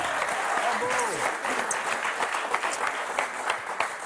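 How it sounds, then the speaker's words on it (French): Studio audience applauding on the French game show Motus, a brisk burst of clapping with voices talking over it throughout. "Bah, c'est sympa d'applaudir"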